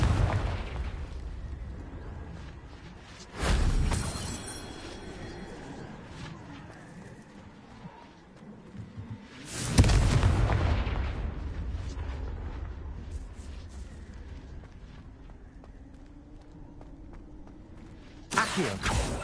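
Three booming explosions from the fire spell Confringo in the Hogwarts Legacy video game, each a loud sudden blast at an uneven interval that then fades into a rumbling tail, with no talk.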